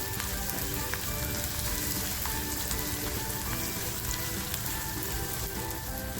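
Onion and two broken green chilies fry in a pan for a black pepper chicken masala, a steady close sizzle with crackling spatter running evenly throughout, no talking.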